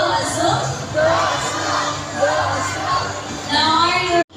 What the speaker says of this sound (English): Come on girls, let me hear you cheer.